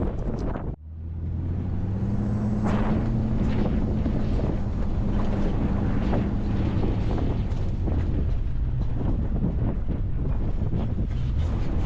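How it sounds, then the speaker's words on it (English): Strong wind gusts roar across a desert canyon, buffeting the microphone in a loud, continuous rush with shifting surges and a low rumbling undertone throughout. "I don't know if I'll be able to talk much due to the wind"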